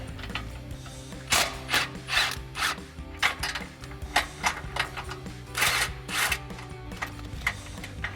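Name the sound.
18mm socket ratchet removing nuts from Jeep bumper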